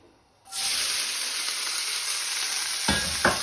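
Ginger and garlic drop into a little hot vegetable oil and burst into a loud, steady sizzle that holds to the end, with a couple of brief stirring scrapes near the end.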